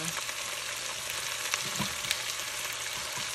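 Chicken pieces fry for adobo in a pan, giving a steady, close hiss of sizzling oil with soft crackles and pops throughout.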